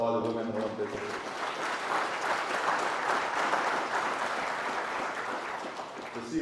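Sustained applause from a large summit audience swells and holds for several seconds, briefly overlapping a speaker's voice at the start.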